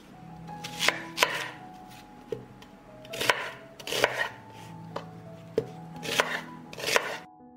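A knife chops peeled onion on a board, mincing it with a steady run of sharp, close taps. The strikes come in quick clusters with short pauses between them.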